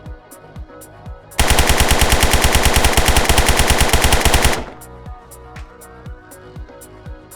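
Sustained automatic gunfire from a weapon fitted with a compensator in the tactical shooter Zero Hour: Operation Black Dawn. A loud, even three-second burst of rapid shots is framed by single echoing reports before and after.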